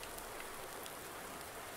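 Rain falls steadily in Farming Simulator 19, a faint, even hiss of drops with no speech and no other distinct sounds.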